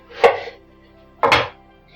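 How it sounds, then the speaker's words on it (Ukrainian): Two sharp knife chops through eggplant, about a second apart, each a crisp crunch landing on a board, close and distinct. "я розрізаю всі свої баклажани"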